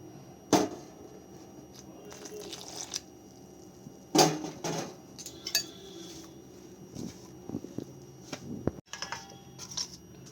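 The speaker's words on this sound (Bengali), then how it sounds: "এইভাবে অল্প অল্প করে দুধ দিয়ে পুরো ব্যাটারটাকে আমি গুলে নেব।" A spoon mixes patishapta batter with milk in a bowl, making sparse, quiet clinks and light scrapes against the bowl. A few sharper knocks stand out over a soft background.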